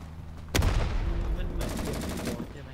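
Gunfire in the video game Rising Storm 2: Vietnam: a sharp, loud shot breaks the quiet, then a dense rattle of rapid automatic fire follows, with a second burst of quick repeated shots later on.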